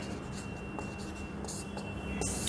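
Marker or chalk writing on a board during an accountancy lesson, a run of quick close scratching strokes, louder toward the end, with no speech over it.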